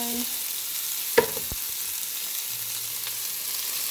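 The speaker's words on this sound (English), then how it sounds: "I have 4 cups of pinto beans. So I'm going to go ahead and add this to my pan." Pinto beans hit a hot pan with a steady broadband sizzle and frying hiss, marked by a brief clatter partway through and no talking.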